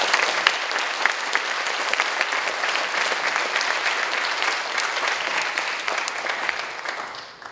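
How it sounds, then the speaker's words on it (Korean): A lecture audience claps to welcome the mayor of Daegu before a special lecture at Chonnam National University, a steady rush of applause that fades out at the end. "자, 큰 박수로 시장님을 모시겠습니다."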